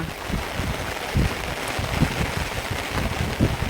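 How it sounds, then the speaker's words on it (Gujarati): Gentle monsoon rain patters steadily close by, soft scattered drops tapping on a surface, with a faint low rumble in the background. "અને આ જો ચાલુ થઈ ગયો વરસાદ."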